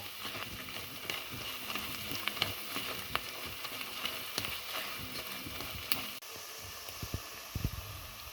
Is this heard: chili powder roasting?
yes